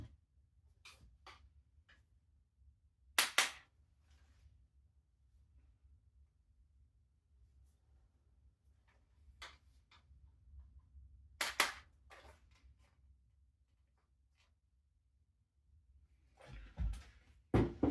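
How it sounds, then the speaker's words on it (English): A pin being tapped through an airsoft HPA gun: a few sharp, isolated metallic taps spaced several seconds apart over a quiet, low room hum. "I'll just take that off and tap it through."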